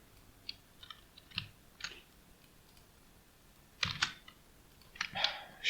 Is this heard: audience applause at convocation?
no